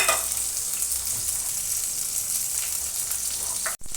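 Grated ginger, garlic and chopped green chili frying with onions in a pan, a continuous close crackling sizzle with a few stirring scrapes, cut briefly by a sharp dropout near the end.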